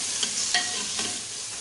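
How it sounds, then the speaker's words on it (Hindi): Meat with salt and green chilies being stir-fried in a pan, a soft continuous sizzle broken by a few quick scraping strokes of a spoon, spaced roughly every half second, fairly quiet and close. "ये नमक, ये हरी मिर्च, ये भी डाल देंगे और इसको अच्छे तरीके से भून लेंगे"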